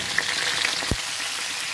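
Mustard seeds, green chillies, a dried red chilli and curry leaves sizzle steadily in hot oil for upma, a continuous close crackle with a few brief pops and a soft scrape partway through.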